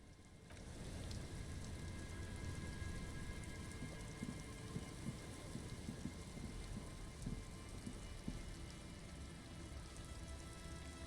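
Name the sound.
rain in a video game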